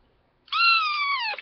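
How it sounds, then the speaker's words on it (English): A four-week-old kitten gives one long, unhappy meow, close and clear, rising out of silence and trailing off at the end. "Now that's my new kitten"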